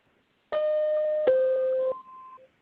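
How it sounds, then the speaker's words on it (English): A double electronic warning tone from a teleconference court argument system: two clean sustained beeps, one after the other, the second slightly lower, ending in a brief softer tone, clear and alone with no voices. "and a double tone that sounds like this."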